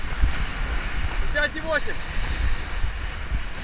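Wind and ocean surf rush past while windsurfing on a size-nine sail in the open ocean, a loud, continuous buffeting roar with low thumps, and someone speaks briefly over it.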